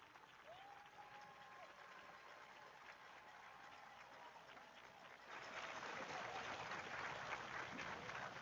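A stadium crowd at a homecoming high school football game applauds for the 1990 Farmington team, a dense, steady roar of clapping that swells louder partway through, with a faint announcer voice early on.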